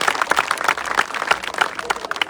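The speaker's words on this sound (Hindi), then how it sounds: "जोरदार तालियों से अभिनंदन करें, स्वागत करें।" Scattered, uneven clapping from a crowd greets speakers at an outdoor political rally in Manota, in the Khetri constituency of Rajasthan, with sharp individual claps rising and falling close by.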